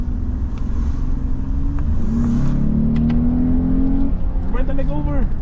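A VW MK4 GTI 20th Anniversary Edition engine revving with a rising, sustained tone, ending in quick fluttering chirps from the turbo, heard close with a low rumble beneath.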